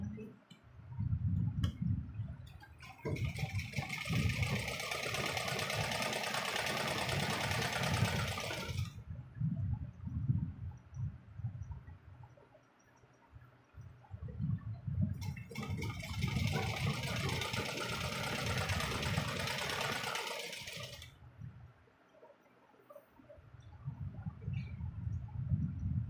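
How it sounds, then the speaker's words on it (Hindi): A sewing machine stitches along blouse piping in two long runs of steady, fast mechanical whirring, close and moderately loud, with quieter handling sounds and pauses between. "उसके बाद पैपिंग के किनारे सिलाई लगाएंगे।"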